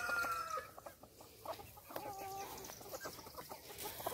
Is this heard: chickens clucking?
yes